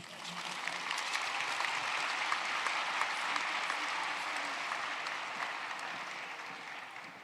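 A graduation ceremony audience applauds steadily throughout, a dense, even wash of many hands clapping that swells slightly and then tapers toward the end, with no voices standing out.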